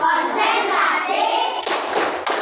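A class of schoolchildren claps the 'tepuk konsentrasi' clap chant, with dense bursts of hand claps close to the mic and brief gaps between the rhythmic groups, under loud children's voices.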